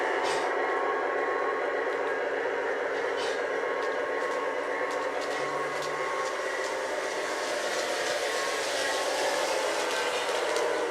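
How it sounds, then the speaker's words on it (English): A Lionel Chessie System Alco S4 switcher model train engine gives a drawn-out brake squeal sound effect, a steady hiss-like whine that stays moderately loud for the whole stretch, with no talk over it. "Brake squeal."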